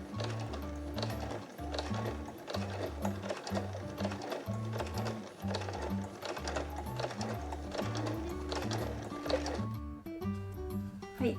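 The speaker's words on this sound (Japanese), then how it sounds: "ミシン目を重ねてここまで縫いましょう。" A sewing machine stitches a small pochette bag with a zipper pocket, its needle chattering in a fast, even rhythm for about ten seconds, close and clear, before slowing and stopping near the end.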